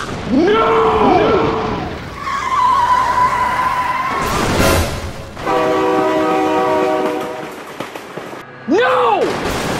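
Train horn blaring in BeamNG.drive, two loud horn blasts with a rumbling train passing amid tire skids, vehicle noise and excited shouting; the horn sustains in steady tones through the middle and returns at the end.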